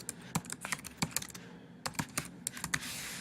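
Quick typing on a computer keyboard while searching a library database for a journal title: a burst of light clicking keystrokes with a short pause midway, close and fairly quiet.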